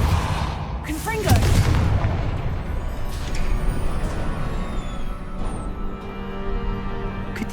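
Confringo fire spell from Hogwarts Legacy: a loud booming blast near the start, followed by a long rumbling roar of sustained explosive noise and debris that fades only slightly over several seconds.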